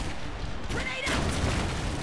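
A grenade blast in the video game Clive Barker's Jericho, a dull boom with rolling rumble, heard under a loud mix of battle noise.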